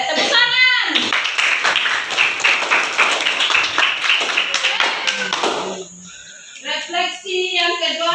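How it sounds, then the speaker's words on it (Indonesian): A classroom of students claps hands together in a burst of dense, quick applause lasting several seconds, then dies away as children's voices chatter. "Oke, tepuk tangan."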